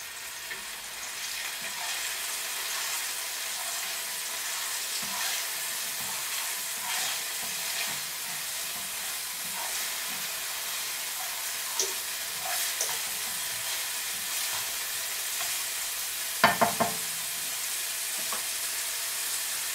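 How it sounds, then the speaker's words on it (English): Garlic sizzles and fries steadily in a pan, a constant close hiss with a few faint crackles and brief stirring noises, no voices. "A nice sizzle going now"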